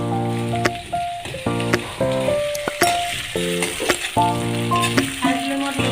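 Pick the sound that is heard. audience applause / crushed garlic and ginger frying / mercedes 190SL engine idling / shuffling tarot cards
crushed garlic and ginger frying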